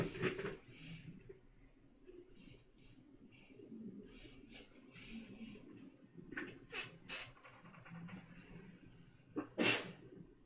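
A single sharp sneeze near the end, with a few quieter bursts earlier, over a faint room background with occasional bird-like chirps.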